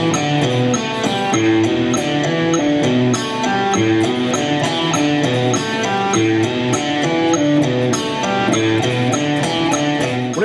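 An electric guitar plays a fast, continuous legato lick of hammer-ons and pull-offs, a dense, steady stream of notes, loud and close throughout, with no pauses or talking.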